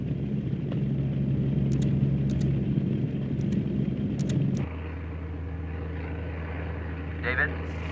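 Inside a research aircraft flying into a hurricane, a heavy low cabin rumble with a steady engine drone that drops to a lighter hum partway through, under narration.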